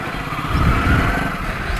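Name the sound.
Hero Splendor Plus motorcycle engine while riding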